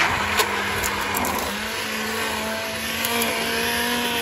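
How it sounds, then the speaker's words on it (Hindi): A hand blender whirs steadily at close range while beating cooked lentils for haleem, a continuous motor drone with a rising hum partway through and no voices. "हम दाल को जो है हैंड ब्लेंडर से अच्छी तरह से इसको बीट कर लेते हैं"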